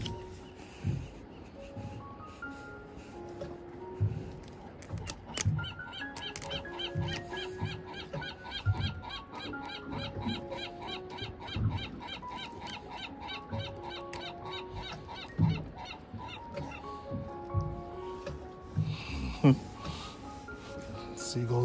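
Harsh seagull calls, gull squawks and cries, repeat across the scene under steady talk and outdoor background noise while fishing on a calm day.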